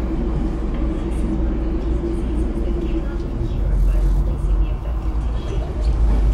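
Steady, loud low rumble of an NCART metro train running on Line D in Cyberpunk 2077, a continuous roar of the moving carriage with faint voices under it.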